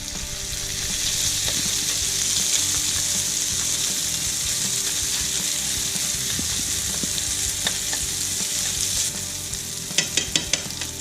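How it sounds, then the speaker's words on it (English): Rice frying in a pan with crispy duck, soy sauce and teriyaki for egg fried rice, a loud continuous sizzle close up, with scraping stirs and a few sharp clicks near the end. "Then we're going to add the rice to this pan with everything else"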